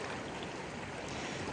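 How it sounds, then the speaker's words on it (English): The Deschutes River in Oregon flows near a summer campsite, giving a steady broadband rushing wash of moving water, close and unbroken, with no voices. "There's river."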